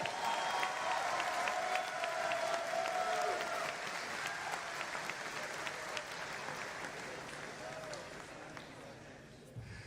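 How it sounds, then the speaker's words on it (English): A crowd at a jiu-jitsu event applauds the announced fighters, sustained clapping with some cheering and whistling under a voice, gradually fading over about ten seconds. "Let's give these guys a round of applause."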